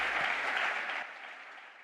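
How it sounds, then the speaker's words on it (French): Audience applause during a Real Madrid presidential speech by Florentino Pérez, a dense steady clapping that carries on for the whole stretch and eases slightly toward the end, with no voice over it. "Applaudissements."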